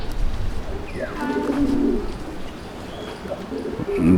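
Pigeons coo inside a loft, a couple of soft throaty rolling calls rising and falling at close range over a low background murmur, with a brief faint chirp in between.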